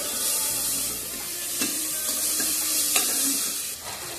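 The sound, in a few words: peanuts and tomatoes stir-frying in pan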